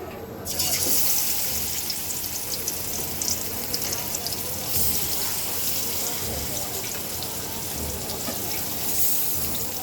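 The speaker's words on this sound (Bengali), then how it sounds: "এখন আমি সুন্দর করে মাছগুলো ভেজে নেবো" Small khoilsha fish frying in hot oil in a kadai: a continuous, even sizzle and crackle that starts abruptly and holds steady at moderate loudness, with occasional louder spits.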